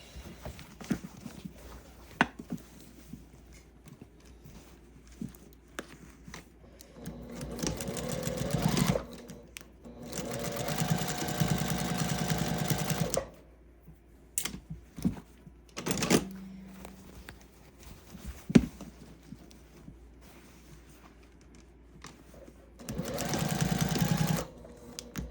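A sewing machine stitching a quilted gift bag, running in several bursts of rapid mechanical stitching with pauses, plus scattered handling clicks and rustles, close and moderately loud.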